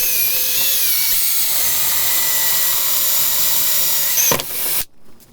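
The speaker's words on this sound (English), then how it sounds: "So we're going to go ahead and we're going to drill this and get our pieces." A power drill fitted with a hole saw cuts a washer blank for a sailboat rudder repair. It gives a loud, continuous high whine for several seconds, then winds down and stops.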